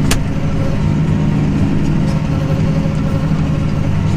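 A tractor engine pulls a seeding harrow with a roller while oats are sown in a field, giving a steady, loud mid-pitched drone that holds even and unbroken throughout with no voices.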